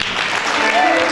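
An audience clapping for a married couple at a couples' conference dinner, a steady, fairly close round of applause with a voice speaking over it.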